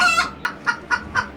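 A hen carried in a teacher's arms gives a short run of about five close, evenly spaced clucks, with no talking over them.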